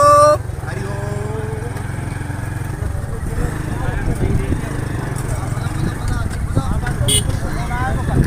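A vehicle creeps along slowly with a low steady engine rumble, starting loud then settling into a constant drone while people talk nearby.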